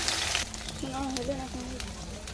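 Pumpkin-leaf dal paturi frying in one to two spoons of oil, giving a close, steady sizzle and crackle that runs through the whole clip while someone talks over it.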